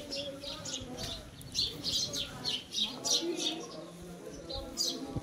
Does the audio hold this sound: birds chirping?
yes